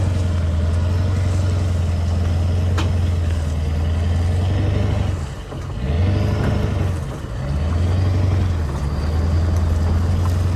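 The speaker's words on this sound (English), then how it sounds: "we're dragging this big old hunk of junk up this hill" An old 1979 Ford F350 truck with locked-up back wheels being dragged up a hill outdoors, a loud constant low engine drone that dips and surges twice midway, with no voices.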